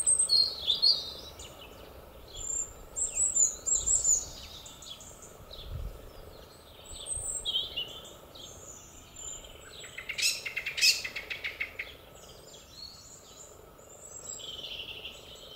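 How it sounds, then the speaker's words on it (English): Several birds chirp and sing outdoors in early spring in the west of Ireland, scattered high calls overlapping at a moderate distance, with a brief burst of denser twittering midway. "Listen to the birds."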